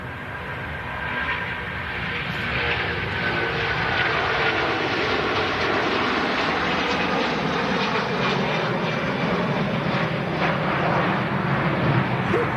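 An Air Tanker Airbus A330 jet flying for Jet2 passes overhead, its broad engine roar swelling and holding steady for the whole stretch, heard alone without talk.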